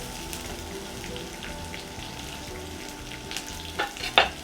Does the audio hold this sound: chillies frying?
yes